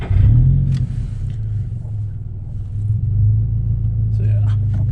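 A Subaru FRS engine fires up close by and settles into a steady low idle rumble, with brief faint voices over it.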